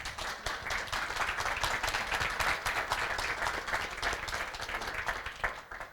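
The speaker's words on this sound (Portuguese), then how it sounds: "Podem aplaudir." An audience at an event in Portugal claps in a fairly quiet, steady round of applause with individual hand claps audible throughout, tapering slightly at the close.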